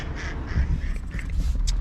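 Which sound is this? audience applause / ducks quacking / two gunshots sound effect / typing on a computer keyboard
ducks quacking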